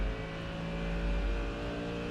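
Ginetta G60-LT-P1 LMP1 race car engine in the iRacing simulator, a continuous droning roar at steady pitch with strong layered harmonics, held evenly throughout with no talk.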